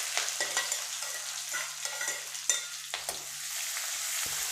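Curry leaves, onion and dried red chillies hit hot oil in a pan as a tempering for yellow pumpkin poriyal, giving a steady sizzle broken by repeated scraping stirs of a spoon, with no one speaking.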